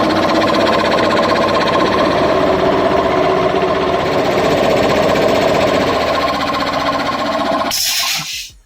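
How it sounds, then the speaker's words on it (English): A belt-driven air compressor runs with a loud, steady, droning mechanical hum close by, then cuts off abruptly near the end. "just to give a comparison how my belt driven compressor sounds."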